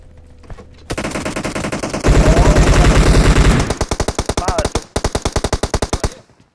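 Rapid automatic gunfire in the mobile game PUBG Mobile, loud sustained bursts of shots, then a run of distinct separate shots, close and dominant, with no talk over it.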